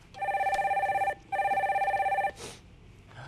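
A telephone rings as the next caller is put through on a Korean call-in stock show: two loud, close electronic trilling rings with a brief gap between them, then a short click and quiet.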